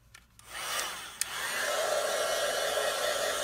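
Heat tool for embossing powder warming up at close range, a steady airy hiss like a hair dryer that builds after a short start and runs on continuously.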